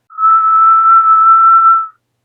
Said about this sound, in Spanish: El silbón levantó la cabeza y silbó de nuevo.